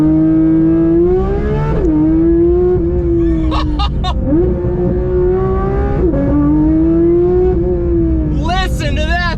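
A Porsche 992 911 GT3 launches hard from 6,500 RPM, its engine screaming loud and close as a sustained high wail with brief dips at each gear change.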